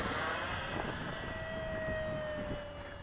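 A Freewing F-104 radio-controlled model jet flies past outdoors, its steady loud ducted-fan whine holding throughout and sliding gently in pitch, with no voices.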